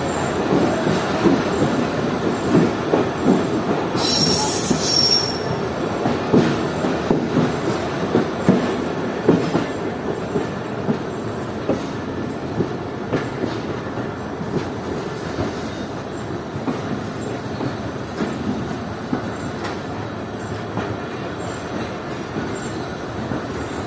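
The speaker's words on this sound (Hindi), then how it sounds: "मारवी पैसेंजर अपना पहला अराइवल कर रही है" Marvi Passenger train pulling into Mirpur Khas Junction station, a steady rolling rumble of coaches and wheels with a brief high squeal near the start, continuous and fairly loud with no talk.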